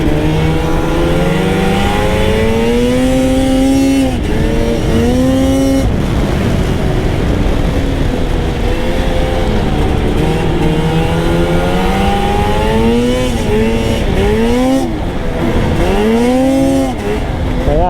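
A trail snowmobile with a heated visor cord plugged in rides along a snowy trail, its engine droning loud and close, repeatedly revving up and easing off as it accelerates and corners, with no talk.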